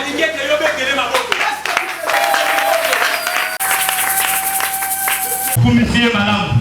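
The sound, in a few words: congregation applauding and cheering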